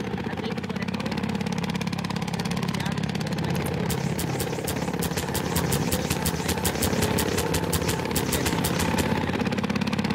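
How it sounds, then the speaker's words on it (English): A Garry's Mod helicopter engine runs steadily throughout with a low droning hum, while a rapid rhythmic chopping of rotor blades emerges in the latter half; a voice speaks over it. "Now we're going to teach you how to use a helicopter"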